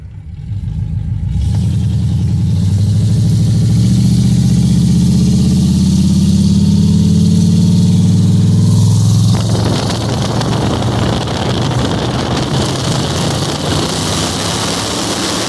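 A 1970s Chevrolet Monte Carlo street car's engine runs loud and close with a steady rumbling idle. It has electrical issues and the distributor plug has been pulled, and its tone and roughness shift partway through.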